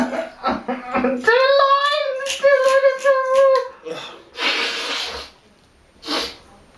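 A person sneezes after inhaling ground pepper, with a drawn-out vocal wind-up, breathy snorts and gasps, then two sharp explosive sneezes close to the microphone.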